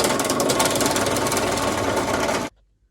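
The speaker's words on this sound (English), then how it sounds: "drill it out with this step bit" A step drill bit grinds through the metal end can of an aftermarket big bore exhaust for a 1999 Honda C90, giving a loud, continuous buzzing whine for about two and a half seconds before stopping abruptly.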